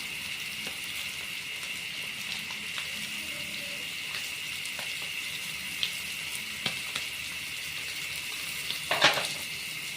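Rohu fish pieces frying in a pan with chopped onion added, giving a steady soft sizzle throughout, with a few faint clinks and a brief stirring scrape near the end; no one speaks.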